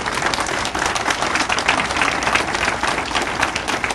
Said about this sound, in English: A round of applause for our Boy Scout Troop 17 and